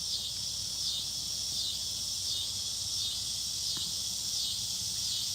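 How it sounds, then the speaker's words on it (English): A shrill cicada buzz pulses in repeating waves, loud and continuous, with a faint low background hum beneath. "It's cicadas."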